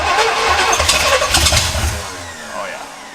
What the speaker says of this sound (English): Oh yeah, that crank's way better.